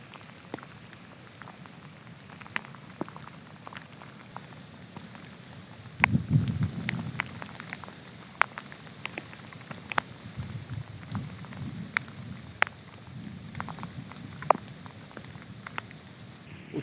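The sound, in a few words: heavy rain during flood in Uttara Kannada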